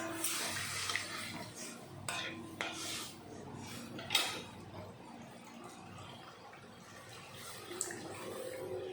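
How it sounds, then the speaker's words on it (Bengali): Water poured into a pan of simmering small-fish curry with sour fruit, a soft splashing pour with clinks of pot and utensil, fairly faint and close, no speech. "এখন দিয়ে দেবো জল।"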